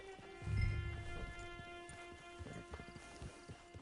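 Horse hooves clip-clop in Red Dead Redemption 2, a rhythmic string of light, fairly close steps under steady game ambience, following a low thump near the start.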